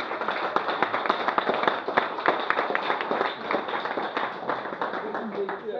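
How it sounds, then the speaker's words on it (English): Audience members in a lounge venue at a theatre-company event clap together, fairly close and lively with distinct sharp claps in an even rhythm, and faint voices mixed in underneath. "A huge round of applause and thank you."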